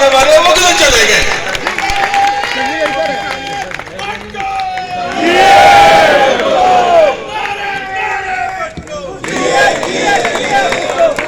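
A large political rally crowd at a long march shouts slogans together in loud, surging waves of massed voices, with bursts of cheering between chants.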